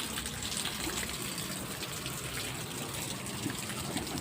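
Steady rushing water pours continuously into a vessel, a broad hiss with no pauses and no voices.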